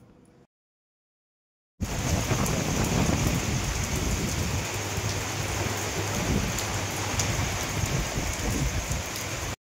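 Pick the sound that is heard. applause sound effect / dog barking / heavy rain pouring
heavy rain pouring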